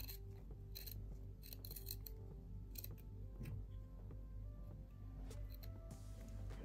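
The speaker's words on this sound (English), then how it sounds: "So I'm just going to cut this at an angle and curve it round." Scissors cutting the ribbon tails of a multicolour scallop shell hair bow at an angle, a series of small crisp snips and clicks at close range over a quiet steady background hum, without speech.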